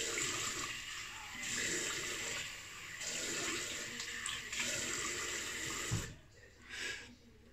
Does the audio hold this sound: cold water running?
yes